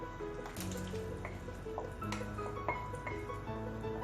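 Boiled potatoes and matki drop into a pot of bubbling misal gravy, giving a few soft, close wet plops and splashes over a steady simmering bubble, with no talking.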